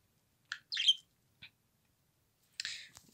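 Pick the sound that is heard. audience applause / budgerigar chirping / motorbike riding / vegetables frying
budgerigar chirping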